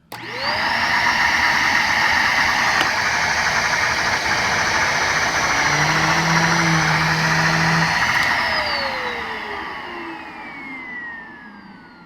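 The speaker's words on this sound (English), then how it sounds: "I'm going to turn them both on so you can hear the real sound of the machine" Two vacuum cleaners, a Shark Duo Clean and a Henry PETCARE, switch on together with a sharp start and run as a loud, steady motor whine with a tonal hum. The sound winds down as they are shut off near the end.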